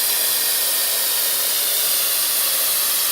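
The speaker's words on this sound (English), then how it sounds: "melting the rod with welding machine and fixing both the joints" A hot-air welding machine melts a welding rod into the joints of indoor synthetic sports flooring. It gives a loud, steady, airy hiss that runs without a break and with no talk.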